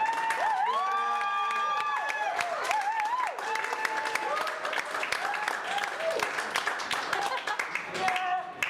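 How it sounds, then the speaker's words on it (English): An audience at a book event applauds and cheers for the author, clapping scattered through the room under prominent voices and loud tonal sounds that stand out over the crowd. "please join me in a huge round of applause to our author."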